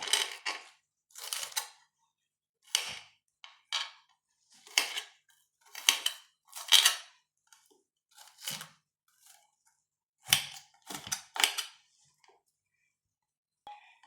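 Onion being chopped with a knife on a board while cooking, a series of separate crisp, crunchy cuts with pauses between them, close and clear with no talking.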